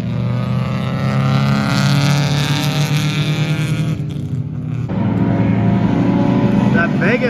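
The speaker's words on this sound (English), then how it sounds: "That Vega sounds so angry." Engine of a Chevrolet Vega race car competing in a 24 Hours of Lemons endurance race, a loud, sustained droning roar with a brief dip midway before building again, with people talking over it.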